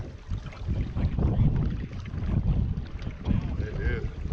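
A boat runs fast across open marsh water while fishing for redfish, its steady rushing drone mixed with gusty wind buffeting the microphone.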